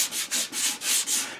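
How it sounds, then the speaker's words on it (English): Sandpaper of 220 grit rubs a spinning yellow birch bowl on a lathe, giving a loud, close, steady hiss that swells and dips in regular strokes. "This is 220 sandpaper. I'm just you know, sort of unscuffing the surface a little bit."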